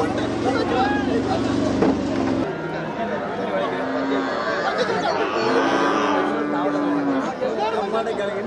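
Cattle at the Melapalayam cow market let out a few drawn-out moos, mixed into a continuous babble of crowd chatter and nearby voices.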